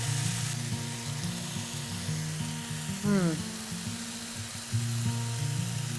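Ground meat for kibbeh browns in a pan with a continuous soft sizzle beneath a low, droning hum, a brief rising whine partway through; no speech.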